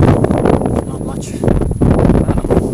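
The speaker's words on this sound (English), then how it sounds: "I'm not liking the wind here. It's super windy out here today." Strong wind gusts outdoors on a fishing outing, loud rumbling buffeting close on the microphone in uneven bursts, with a voice speaking over it.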